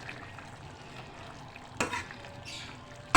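Boiled potato curry with fenugreek being stirred and mixed in a pan, a faint soft sizzle under quiet spoon scrapes, with one sharper clatter near the middle and a knock at the end.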